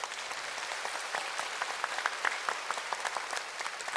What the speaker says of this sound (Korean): 여러분 우리 찬양들 박수 한번 해보세요